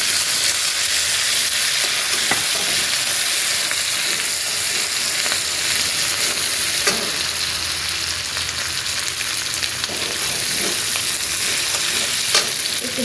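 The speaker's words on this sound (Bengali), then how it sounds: "এবার জিরা ধনে বাটা দিয়ে দিলাম একটু" A ground cumin and coriander paste fries in oil, giving a loud, continuous close-up sizzle with a few faint scrapes of stirring and no talking.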